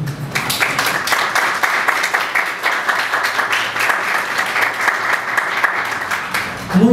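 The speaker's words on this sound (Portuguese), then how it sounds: "E aplaudir o Senhor" A church congregation claps for the Lord during a sermon, a dense, sustained round of applause with distinct individual claps that carries on for several seconds before tapering slightly at the end.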